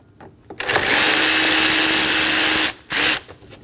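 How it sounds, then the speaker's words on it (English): A power driver fitted with a T15 bit spins out intake screws on a 2012–2022 Volkswagen Passat 2.5L five-cylinder, a loud steady whirring run of nearly two seconds followed by a short second burst, close up with no talk. "Using a T15 bit, we're going to remove the 2 screws for the intake."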